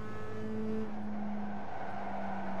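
Mazda MX-5 race car engine in the iRacing sim at Lime Rock, a steady droning tone with engine harmonics that climb as the revs rise and then fall, sustained throughout with no gear change heard.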